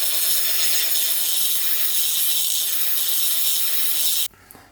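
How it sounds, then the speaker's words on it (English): An angle grinder rounds off the edge of a supermoto stunt peg, a steady, loud, high-pitched grinding whine held for about four seconds before it cuts off abruptly into near silence. "So just take the angle grinder and at an angle and just make it a little bit round like."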